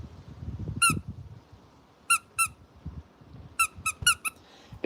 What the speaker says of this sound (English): If you heard a squeak, right, we're off again.